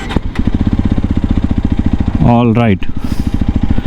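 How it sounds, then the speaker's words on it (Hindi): A Hero Xpulse 210 motorcycle idles close by, its exhaust giving a steady, rapid low thumping throughout, with a short spoken phrase partway through. "एग्जॉस्ट साउंड बड़ा प्यारा है यार इसका।"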